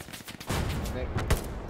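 Gunfire in the Hell Let Loose war game: distant bursts and single shots crackle and pop across the clip, with a heavier blast near the end, mixed with a low rumble of battle.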